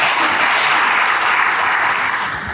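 Church congregation applauding, a steady dense wash of clapping from many hands that stays loud throughout and tapers slightly at the end.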